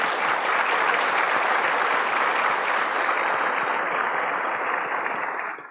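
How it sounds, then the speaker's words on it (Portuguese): Sustained applause from an audience at a formal political event, a dense even clapping close and loud that carries through and fades slightly at the end. "Salve de palmas."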